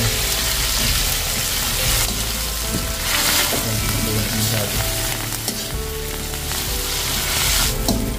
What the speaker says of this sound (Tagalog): Gisa-gisa lang po yan.